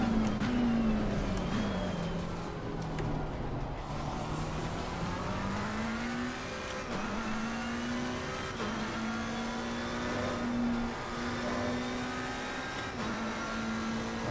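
A race car on a flying lap of a circuit, its engine droning steadily at close range while the pitch sweeps down and climbs back up through gear changes and throttle shifts.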